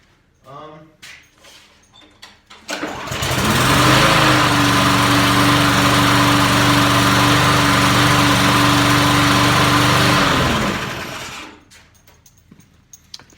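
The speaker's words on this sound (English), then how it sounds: "Someone else has got their mower out too." A neighbour's lawn mower engine kicks in and runs at a steady, loud, close drone for about eight seconds, then cuts out, with quieter outdoor sounds before and after.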